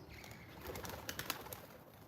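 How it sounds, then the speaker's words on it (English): Birds call softly in the distance on a slow morning, with a few brief chirps and soft cooing over a quiet outdoor background; no one speaks. "listen to the birds"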